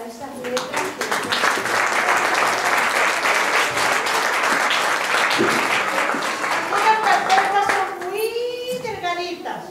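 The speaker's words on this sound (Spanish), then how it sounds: "Un aplauso para esas letras" An audience at an end-of-course school event claps in a steady, full round of applause lasting several seconds, then it fades as a voice and other talk take over near the end.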